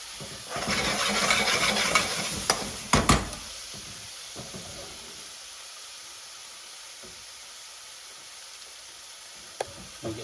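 Onions and sliced green chilies fry in oil, a loud hiss and crackle for the first few seconds with a couple of sharp utensil knocks, then a faint, quieter sizzle to the end without speech.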